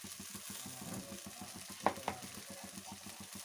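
Tomatoes with coriander powder and chili powder fry quietly in a pan for masala idli. There is a soft, steady sizzle, a brief stir and two sharp clicks of a spoon on the pan near the end.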